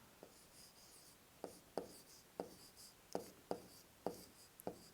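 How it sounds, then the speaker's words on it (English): Chalk or marker strikes a classroom board in a series of short, sharp taps and scratches, about eight distinct strokes spaced irregularly over a few seconds, fairly close and with no talk. "I will write here the first one"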